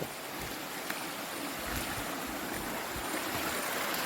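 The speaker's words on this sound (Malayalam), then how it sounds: "വെള്ളം ഒലിച്ച് വരുന്നുണ്ട്" Water flows down a stream in a green area of Al Baha, Saudi Arabia, a continuous broad rushing wash with soft low gurgles, fairly close and with no voices.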